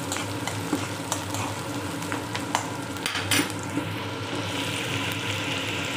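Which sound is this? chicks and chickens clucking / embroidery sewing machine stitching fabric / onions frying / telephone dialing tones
onions frying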